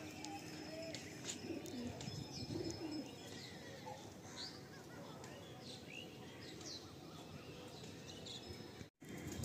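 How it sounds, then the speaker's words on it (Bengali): Young Andhra pigeons, about a decade-old breeding line and kept as a pair for sale, coo softly and repeatedly at close range, mixed with faint chirps from other birds in the background. "এগুলো একদম ইয়াং পায়রা, 1 দশকের পায়রা।"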